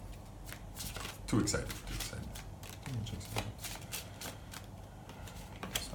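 Playing cards shuffled and riffled in quick bursts during a card trick, the flicking close and fairly loud, with a person talking excitedly over them.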